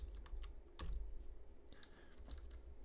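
Typing on a computer keyboard during a Zwift virtual cycling race, quiet scattered key clicks in short clusters over a low steady hum.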